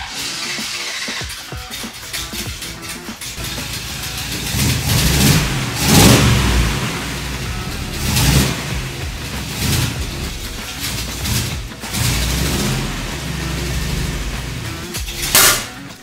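A 1965 Cadillac engine fitted with a new carburetor runs steadily and is revved repeatedly, loud and close, with surging swells throughout.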